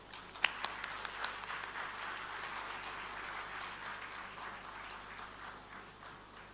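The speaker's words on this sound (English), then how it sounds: "Let's give a big round of applause for Mr. Nandan Nilekani." An audience at an opening ceremony and plenary session claps: a few sharp early claps swell into steady, fairly distant applause that slowly fades.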